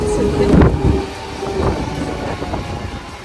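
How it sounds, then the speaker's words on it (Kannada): A train pulls in close by with a deep rumbling roll, clattering wheels and a faint steady whine; the noise swells around the half-second mark, then settles into a continuous rumble with some wind buffeting. "ಯಾಕೆ ನೋಡಿ, ಬಂತು ಟ್ರೈನ್."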